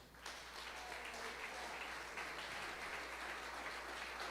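A church congregation claps steadily during a sermon, giving the Lord a round of applause; the dense, even patter of many hands sounds somewhat distant and soft, continuing throughout without a break.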